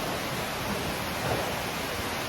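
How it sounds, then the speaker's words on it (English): Heavy rain pours steadily, a dense, even hiss with no breaks, heard at moderate volume. "Crazy rain here."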